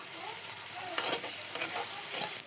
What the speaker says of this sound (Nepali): मजाले मसला भुट्यो।